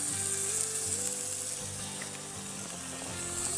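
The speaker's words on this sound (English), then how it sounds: "I'm just gonna go ahead and dump this whole 1 pound block of grass-fed ground beef in there." A one-pound block of lean grass-fed ground beef sizzles in a lightly oiled Dutch oven at a campsite, a steady close frying hiss with no talk.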